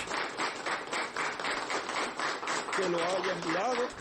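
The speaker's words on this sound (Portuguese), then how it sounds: "damos um forte aplauso" Applause and clapping from a congregation at a Portuguese-speaking religious birthday celebration, a dense steady patter of many hands carrying on throughout, with a voice singing or calling out over it near the end.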